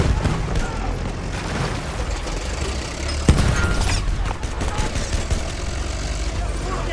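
Artillery shells in Battlefield 1 pound away as a continuous rumble of distant booms and gunfire, with one sharp, loud blast standing out midway and someone speaking over the din.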